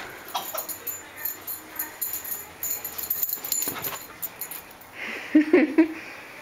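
A dog whimpering and breathing close by, soft high whines and puffs over a quiet indoor background, with a brief louder squeal near the end.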